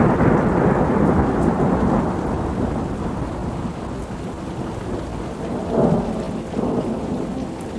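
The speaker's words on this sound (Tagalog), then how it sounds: "something that produces a loud, rumbling, or thunderous sounds" Deep thunder rolls continuously through a steady rainstorm, with a louder rumble swelling near the end over the hiss of rain; no voices.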